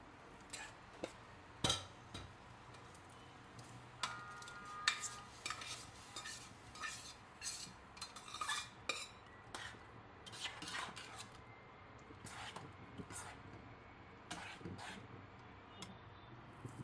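A spoon stirs cooked dal into fried fenugreek leaves in a pan. Soft, intermittent scraping and rubbing strokes sound close by but faint, with occasional light clinks against the metal.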